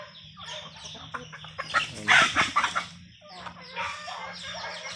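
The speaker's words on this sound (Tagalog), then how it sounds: "Pakita ko yung mga alaga kong manok" Several chickens cluck and squawk nearby, with a busier burst of clucking in the middle and steady low rural background noise.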